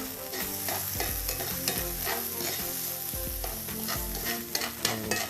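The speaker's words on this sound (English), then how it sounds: "we're going to give this a stir" Grits being stirred in a pot for a Southern shrimp dish, a steady scraping and sizzling texture with rhythmic strokes, close and continuous, no talking.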